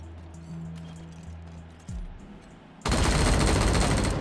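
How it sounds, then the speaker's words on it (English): Gunfire shoots down a wall in Wasteland 3, arriving as a sudden loud, sustained burst of noisy rapid fire after a quieter stretch of low hum and a short descending whoosh. "we're able to shoot down that wall"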